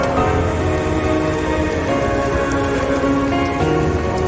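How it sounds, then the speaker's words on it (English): Steady, loud rain hisses evenly throughout, as heard in a played music video, with a dense continuous wash and no voices. "It looks like it's raining now."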